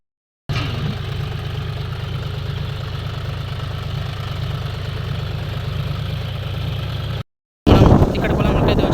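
A tractor engine idles steadily in a farm field, a loud, even low rumble running for about seven seconds before cutting out abruptly, followed by a brief burst of louder mixed noise.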